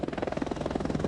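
An AH-64D Longbow Apache helicopter makes a steady, rapid rotor thudding with a droning engine hum, loud and unbroken for about a second.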